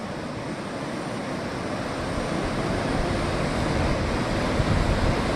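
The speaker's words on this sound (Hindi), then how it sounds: "पानी बिल्कुल उफाल मार रहा है इधर," Swollen Siyang River water surges and churns during a storm at Pasighat near a hanging bridge, a loud, continuous rushing roar mixed with wind that builds slightly over the span.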